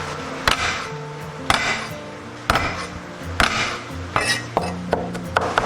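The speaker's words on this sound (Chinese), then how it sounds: "准备切大蒜，先拍碎，" Garlic cloves are smashed with the flat of a kitchen knife, giving sharp, close knocks on a board, about a dozen irregular hits with brief pauses between them and no voices.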